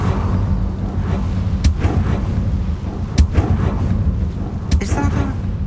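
Hogwarts Legacy gameplay: bursts of fire from the Incendio spell in the video game land as three sharp, loud whooshing cracks over a rumbling low background.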